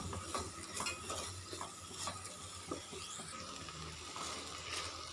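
Onions sautéing in a pan for chicken dum biryani, a soft continuous sizzle under repeated scraping strokes of a spoon stirring against the metal.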